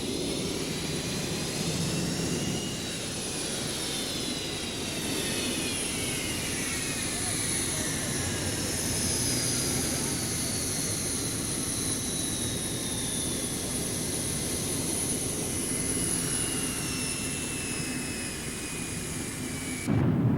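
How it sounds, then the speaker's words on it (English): Twin Pratt & Whitney F100 turbofan engines on a McDonnell Douglas F-15 Eagle roar steadily up toward take-off thrust, a loud, continuous jet rumble with rising and falling whine tones throughout. "the massive Pratt & Whitney F100 turbofan engines, part of the secret of the Eagle's phenomenal performance, are brought up to take-off thrust"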